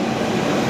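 KA Jayakarta intercity train on the Pasar Senen to Surabaya Gubeng line, a steady loud rumble of carriages in motion with a continuous broad roar and no voices.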